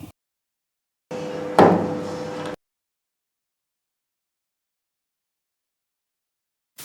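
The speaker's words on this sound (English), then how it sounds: "To remove this, you're just going to take a flathead screwdriver and pry it up." A flathead screwdriver pries up the bump knob on a Husqvarna T25 string trimmer head, giving one close, continuous plastic scraping and creaking lasting about a second and a half, followed by silence.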